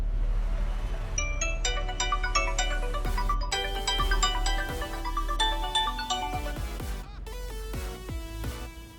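Incoming-call ringtone on an Honor X9c smartphone, a bright melodic electronic tune of repeating chime notes playing steadily and alone, close and continuous throughout.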